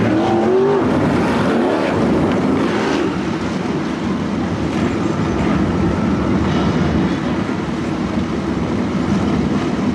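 305 sprint cars race at Attica Raceway Park, making a continuous, loud engine roar that stays dense and unbroken for the full stretch, with no clear gaps between passing cars.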